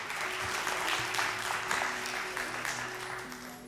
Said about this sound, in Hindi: बहुत सारी तालियां अब्दुल्ला के लिए।